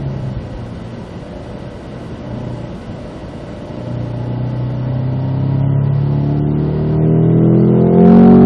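A Cadillac performance car on the North Course circuit accelerates through the gears, its engine note climbing steadily and growing louder toward the end, heard alone without talk.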